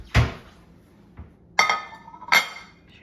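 A plate is taken from a kitchen cupboard and set down in a few distinct clinks and knocks, glassy ringing contacts spaced out over a couple of seconds in a quiet room.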